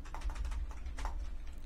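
Rapid typing on a computer keyboard, close and crisp, a quick run of clustered key clicks with a brief pause midway, no voices.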